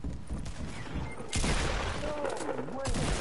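Pistol fire in an online shooter game, a rapid burst of overlapping shots and crackling impacts that jumps louder midway and stays dense to the end, with voices mixed in.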